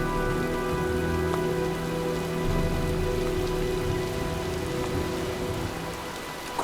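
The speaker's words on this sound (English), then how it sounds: "Well, looks like a storm's coming." Steady rain pours down in the Heavy Rain video game, a dense continuous patter on surfaces with a low rumbling undertone, no voices.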